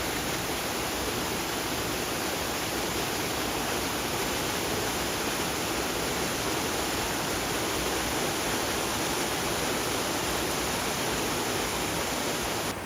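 Small waterfall in Sogeumgang Valley on Mt. Odaesan, a steady, dense rush of falling water that fills the whole clip at even loudness, with no voices over it.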